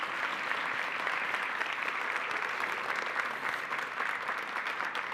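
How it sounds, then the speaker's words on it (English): An audience applauds students who have stood up at a school district gathering, producing a steady, dense wash of clapping that holds evenly for about five seconds with no talk. "Let's give our students a round of applause."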